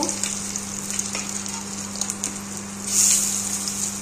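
Fish egg tikki fry gently over a low flame in a home kitchen, giving a steady, continuous close sizzle with a brief louder crackling swell near the end and no talking.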